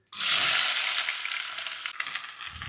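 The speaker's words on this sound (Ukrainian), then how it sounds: "В сотейничок я додаю олії і виставляю смажитися морку з цибулькою." Carrots and onions hit hot oil in a sauté pan, starting with a sudden loud sizzle that settles into steady crackling frying, with a few light clinks and stirring scrapes toward the end.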